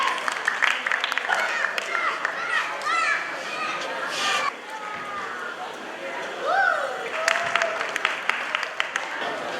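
A crowd at a dance academy performance claps steadily, mixed with children's excited chatter and squeals; the applause swells, briefly dips partway through and then returns.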